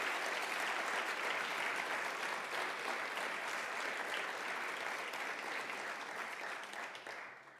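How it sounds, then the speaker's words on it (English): An audience at a teacher appreciation awards ceremony applauds three honored teachers, a steady wash of many hands clapping at moderate distance that holds evenly and then fades out at the end. "So a round of applause for all three of these teachers."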